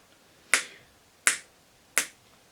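Three crisp finger snaps played as a slow rhythm, evenly spaced about three quarters of a second apart, each a sharp close click with a short decay against near silence.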